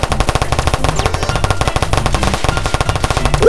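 A Glock fitted with a switch fires full-auto in a roleplay video game set in the Bronx, a loud, close, continuous stream of rapid shots with barely any gap.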